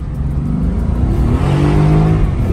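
A Mercedes-AMG GT S engine revs hard under acceleration, a loud, close, rising growl that climbs steadily in pitch over a couple of seconds.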